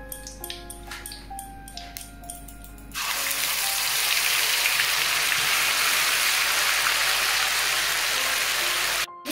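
Ginger and garlic paste hits hot oil in a pan for a Bengali chicken curry, setting off a sudden loud, dense sizzle that holds steady after a few quiet kitchen clinks, with no one speaking.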